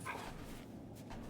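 A dog from the game NEVA lets out short, faint whimpering yips, brief and quiet against a low ambient background.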